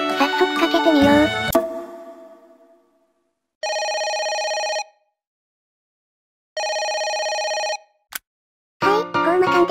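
A telephone rings while a call is placed, two clear, loud ring bursts separated by silence, framed by voiced chatter before and after.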